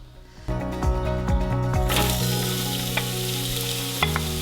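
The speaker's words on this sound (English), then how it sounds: "So I can soften the onions." Onions sizzle and soften in an electric kitchen gadget, a loud bright frying hiss that starts after a few light stirring taps and continues steadily close by.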